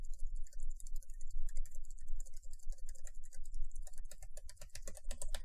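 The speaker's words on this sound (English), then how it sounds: "You can hear typing me?" Rapid, irregular clicking of keys on a computer keyboard, close up and continuous, with no voices.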